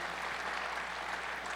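A church congregation on Resurrection Sunday clapping in praise, a dense, even patter of many hands filling the room without pause.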